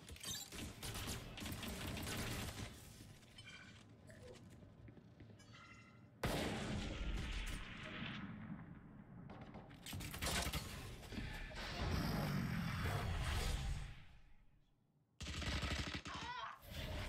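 Gunfire in the video game Valorant comes as rapid bursts and single sharp shots, loud and close, broken by brief quiet gaps, with a faint voice now and then.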